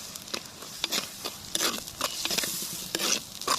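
Ginger garlic paste frying with onions in a pan for a village-style Godavari cashew mutton curry, a steady sizzle broken by repeated scraping stirs of a spoon, close and fairly quiet, with no talking.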